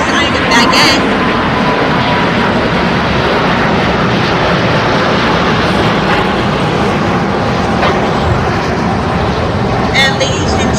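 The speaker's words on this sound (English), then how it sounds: "just taking off here on the 25s, here on the south side, is Air France" An Air France Boeing 777-300ER takes off from the south-side 25 runways at Los Angeles International Airport, its steady, loud jet roar filling the whole stretch with a voice talking over it.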